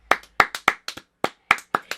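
Hands clap about nine times in a loose, uneven pattern, sharp close slaps with short gaps between them and no talk over them.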